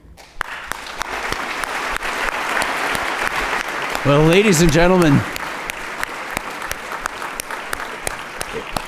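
Sustained audience applause fills the hall after a televised political debate on Canada and a Trump presidency, a dense steady clatter running throughout while a voice speaks over it, with a brief musical swell partway through.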